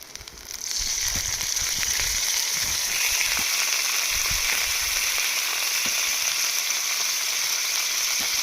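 Masala spices for a doi katla fish curry sizzling steadily in a hot pan, with a dense, even fry that holds throughout, close and fairly loud, broken only by a few soft stirring knocks and no talk.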